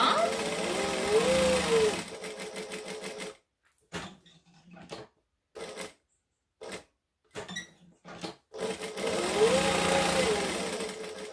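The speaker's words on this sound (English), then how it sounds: "So I'm stitching all the way around and I'm making sure I back stitch at the start and the end." A sewing machine stitches around the edge of a clutch bag, whirring close in bursts that pause and restart, with back-stitching at the start and end.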